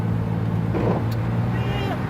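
A 1990s Ford F-150 half-ton pickup accelerates on a highway. The engine drones steadily up close, and someone talks over it.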